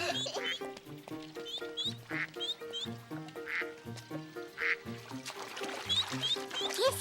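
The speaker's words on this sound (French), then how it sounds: "Ils sont mignons, ces canards" Cartoon ducks quack in repeated bursts over a bright musical score, their calls close and clear and mixed with the music throughout.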